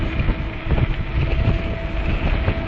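Strong wind buffeting the microphone during a windy throttle-only ride around Lake George Park, a continuous low, loud rumble with rough gusting throughout and no voices.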